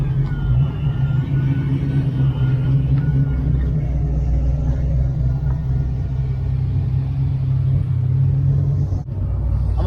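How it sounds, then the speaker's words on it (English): At a Ford car show, cars roll in one after another, giving a steady, loud engine rumble with a low drone that barely changes and no voices on top. "Car's just pouring in."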